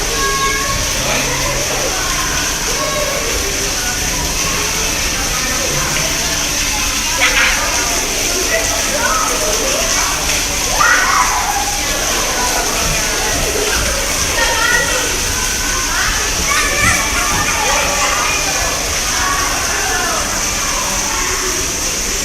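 Water splashes and sprays steadily at the Nemo's Reef splash pad aboard the Disney Dream cruise ship, with squirting fountains and a water slide nearby. A continuous wash of water noise sits under children's voices and nearby talk.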